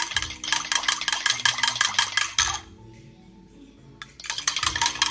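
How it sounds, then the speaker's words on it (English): Yeast and salt being whisked in a mixing bowl, heard as rapid metallic clinks and rattles of a whisk against the bowl's sides, loud and close, pausing briefly in the middle before resuming. "you are going to put this, the yeast and the salt in there, and you are going to whisk it"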